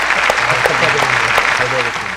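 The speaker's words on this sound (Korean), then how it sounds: "아 박수 한번 치고 갈까요?" A small group claps briefly and lightly in a talk-show recording, with scattered hand claps running under voices speaking throughout.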